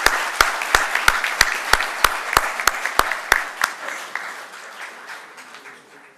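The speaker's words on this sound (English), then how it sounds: "amidst a warm round of applause from all of you" A crowd at a Japan festival gathering gives a warm round of applause for an inaugural address, starting with loud, sharp claps and gradually thinning and fading over several seconds.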